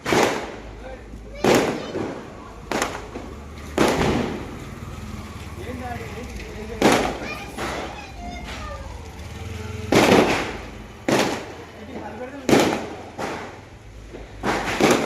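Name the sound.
firecrackers bursting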